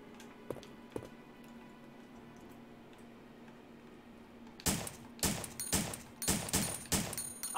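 Gunshots ring out in the video game Resident Evil: Survivor, with two faint taps early, then a rapid series of about seven loud, sharp shots at regular intervals, each with a brief tail.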